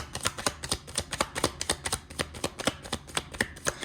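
Tarot cards are shuffled and drawn by hand, giving a quick, close series of crisp papery riffles and snaps in an uneven rhythm, with no speech.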